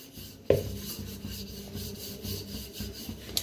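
Corn flour bhakri dough rolled out by hand with a rolling pin, soft rhythmic rubbing and scraping strokes against a board, one sharper knock near the start, close and fairly quiet with no voice.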